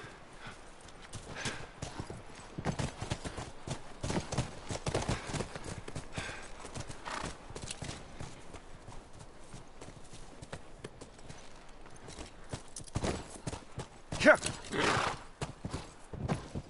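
Horse hooves clip-clop in the video game The Last of Us, a steady run of fairly faint hoofbeats with occasional whinnies and brief speech, louder bursts near the end.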